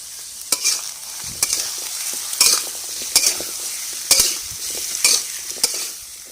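Pumpkin and egg frying in a pan are stirred with a utensil, giving sharp regular scrapes and taps roughly every second over a constant sizzle, close and clear with no talking.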